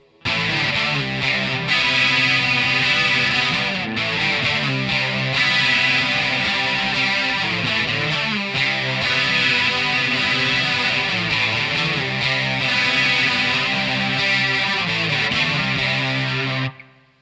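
Distorted electric guitar plays verse A of a song, power chords shifting around on the open fifth string, loud, dense and steady for the whole stretch with no talking.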